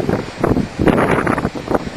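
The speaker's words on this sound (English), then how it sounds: "it's so windy as you can see" Strong wind buffets and roars against the microphone in uneven gusts near a major bushfire by a golf course in Caloundra, loud and close throughout.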